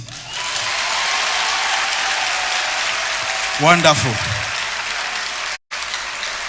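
An audience at a stand-up comedy show claps loudly and steadily, with a performer briefly speaking over it and a short cut near the end.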